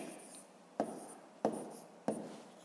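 Pen writing a number on paper during a fifth-grade maths exercise: three short scratching strokes, each starting with a sharp tap, close and quiet, with no talk.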